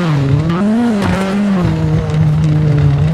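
Rally car engine in WRC 7 on the Corsica rally stage, a loud, close engine note that rises and falls through gear changes, with tires squealing and scrabbling on tarmac corners and no talking over it.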